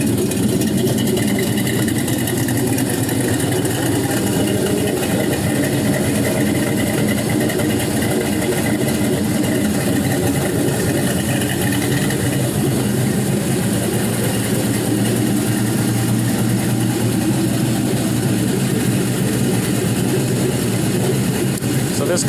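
A 6.0L LS V8 engine, mostly untuned and run on a stand, sits at cold idle with a loud, continuous, even rumble and steady mechanical clatter throughout.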